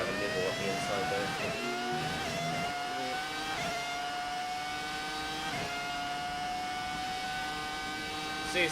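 Racing car engine in the video game F1 2018 at the Australian circuit, whining through rising revs and quick gear shifts, steady and high-pitched, with a voice talking over it.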